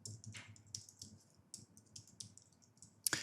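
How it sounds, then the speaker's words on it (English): Typing an email address on a computer keyboard, a close, quiet patter of irregular key clicks with short pauses, ending on a sharper louder tap. "we can go and type it in"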